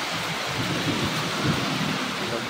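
Thunder rumbles low and heavy through a downpour in Satara, rolling under a thick, steady hiss of rain with no voices.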